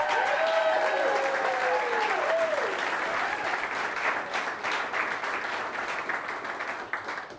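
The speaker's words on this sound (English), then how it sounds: "and the crowd goes wild." A crowd at a live business presentation bursts into loud, sustained applause that slowly tapers off, with a rising swoosh sound effect playing over the opening seconds.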